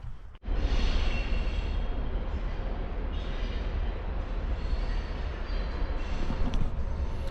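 A train rolls past close by near a junkyard, a loud sustained rumble and clatter of rail wagons that starts suddenly and stays steady to the end, with no talk.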